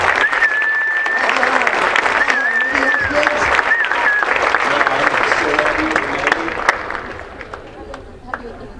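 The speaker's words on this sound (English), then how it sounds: "First round of applause." Loud round of applause for amateur dancers at a charity dance event, a crowd clapping and cheering continuously with a voice speaking over it, tapering off toward the end.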